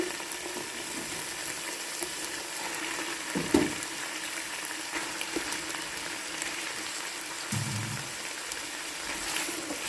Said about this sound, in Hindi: अदरक और लहसुन को हम फ्राई करेंगे थोड़ा सा, और साथ ही हम इसमें शामिल करेंगे चिकन